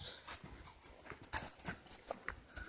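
A horse walks along a forest trail, its hooves clip-clopping in an uneven series of soft, fairly close knocks.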